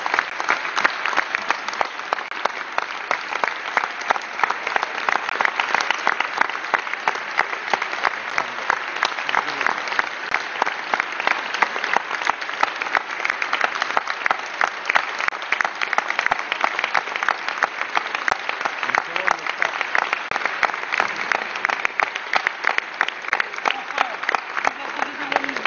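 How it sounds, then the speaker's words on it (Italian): A parliamentary chamber breaks into sustained applause for Fitto's appointment as European Commission executive vice-president for cohesion and reforms, a loud, dense wall of clapping that runs unbroken and evenly for the whole stretch. "Penso che questo applauso non bipartisan, purtroppo"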